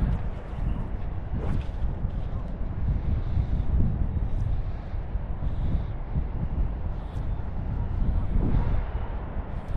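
Wind buffets the microphone during a fly-fishing trip for pre-spawn smallmouth bass, a steady low rumbling roar with gusts that swell and fade throughout.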